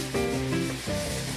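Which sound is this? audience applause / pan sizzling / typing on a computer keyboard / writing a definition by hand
pan sizzling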